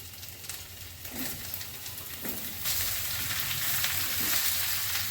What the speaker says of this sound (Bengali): এবার আমি লাউ দিয়ে দিচ্ছি